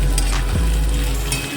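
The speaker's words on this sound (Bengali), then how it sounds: "পেঁয়াজ আলু একসঙ্গে ভাজবো।" Onions and potatoes fry together in a pan for a rui fish head chorchori, with a steady close sizzle, a brief stir partway through, and no talking.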